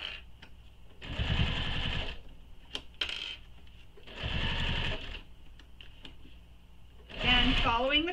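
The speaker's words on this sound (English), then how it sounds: "We're going to baste this in place along that curved edge." A sewing machine bastes along the curved edge of a nylon bag in three separate bursts of rapid stitching, close and loud, with short pauses and small clicks between runs.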